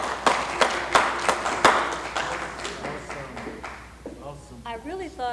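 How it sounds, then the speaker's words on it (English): A Veteran's Day ceremony crowd giving a round of applause, sharp, scattered hand claps that thin out and fade, followed by a voice starting to speak. "Let's give her a round of applause"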